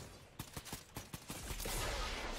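Rapid bursts of gunfire in the video game Fortnite during a trios match, a string of sharp shots and short fusillades that build into a dense, sustained volley toward the end.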